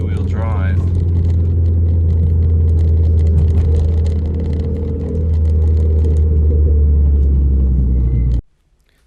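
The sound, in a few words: Renault Clio RS car launching from traffic lights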